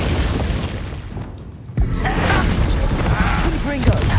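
Glacius ice spell cast in Hogwarts Legacy during combat, a sudden sharp crack and boom cutting through a dense bed of game noise and music, with speech-like voices layered throughout.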